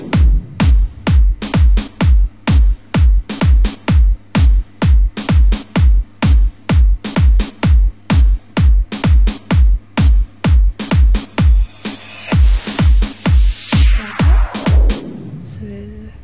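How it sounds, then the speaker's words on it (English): Dutch house drum pattern in FL Studio, a punchy kick thumping on every beat with a clap layered in, tight and loud, ending in a rising white-noise sweep and a final burst. "I think the kick with the clap."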